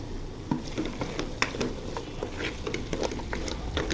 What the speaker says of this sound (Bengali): এখন ওই পেঁয়াজটা বাদামি রঙ হয়ে গেছে, এখন রসুনগুলো দিয়ে দিব, বাগার দিয়ে দিব